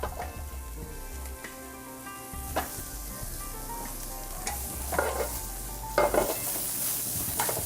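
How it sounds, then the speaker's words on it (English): Squash and zucchini sliced thin on a mandoline hit a hot pan beside fish and sizzle steadily, with a few louder clatters and bursts as the vegetables are stirred and tossed; no one speaks. "Right now I'm getting ready to add squash and zucchini."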